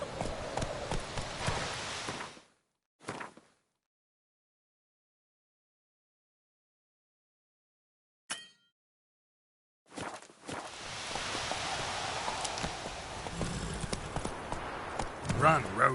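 Roach the horse galloping in The Witcher 3, hooves clip-clopping in busy bursts at the start and end with long silent gaps between, voices mixed in.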